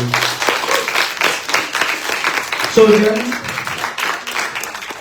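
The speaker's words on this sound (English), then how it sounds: "Can we give everyone a round of applause, please?" Audience applause at a live panel discussion on the Marianas diaspora, a steady crowd of clapping rising and holding, with a speaker's voice briefly talking over it partway through.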